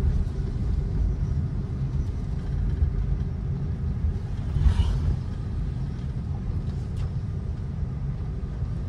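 A car idles in a traffic jam in light rain, giving a low, steady rumble with a brief swell midway and nearby traffic noise around it.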